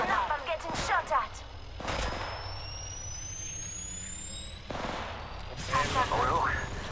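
Gunfire in the mobile shooter Apex Legends Mobile, bursts of shots at several points across the clip, with loud impacts and crackling in the middle and near the end, over a steady tonal game hum and a voice talking between the shots.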